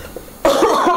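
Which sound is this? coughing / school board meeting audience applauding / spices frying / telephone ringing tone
coughing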